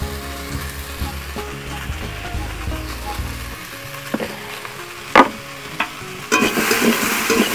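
Onions fry and sizzle in oil while a utensil stirs and scrapes the pan, followed by a few sharp clinks and a louder burst of sizzling as salt goes in, with no one speaking.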